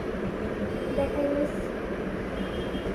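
A homemade toy train that runs without batteries gives a continuous rattling, whirring rumble along its track, steady and close, with a faint squeal and some voices under it.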